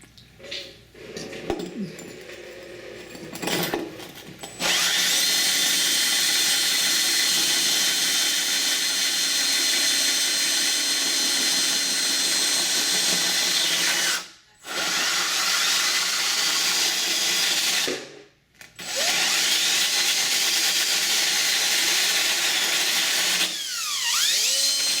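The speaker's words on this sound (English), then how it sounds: "I'm going to finish this drill hole" Power drill with a water-cooled bit boring a hole through a glass aquarium tank, a loud steady high whine running almost continuously, briefly stopping twice and easing off near the end, with a few handling clicks before it starts.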